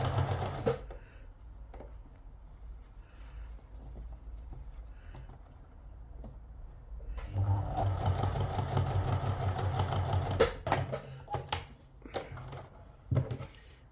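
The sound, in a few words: sewing machine stitching hat fabric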